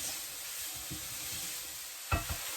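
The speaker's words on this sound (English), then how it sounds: "We're going to give those ingredients a good stir, and we're going to let them sweat down and become translucent." Onions, ginger and other chutney ingredients sizzle steadily in a pan as they sweat down, with a few soft scrapes of a spoon stirring through and one louder clatter near the end, no voices.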